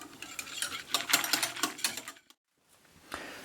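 A spoon stirs a gelatin and Coca-Cola candy mixture in a bowl, rapid clicking scrapes for about two seconds, then a brief pause and a quieter resumption.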